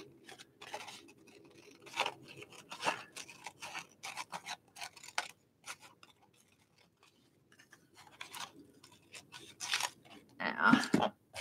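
Scissors snip paper in short, uneven bursts of crisp cuts with pauses between, close and fairly quiet, the paper tearing slightly at times.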